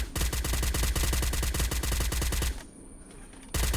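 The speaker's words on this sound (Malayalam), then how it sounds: "തുറന്നു ഭയങ്കര വെടിശബ്ദം കേൾക്കുന്നു" Automatic gunfire in the video game Free Fire rattles in rapid, evenly spaced bursts, loud and close, then falls quiet for about a second before the firing resumes.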